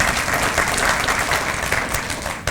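Brief, dense applause rises from diners at a Wabash County Chamber of Commerce annual dinner, a loud wash of many hands that stays steady before tapering at the end.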